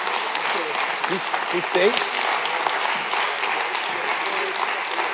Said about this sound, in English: So I just propose a big round of applause for Mr. von Blanckenburg tonight and the speakers.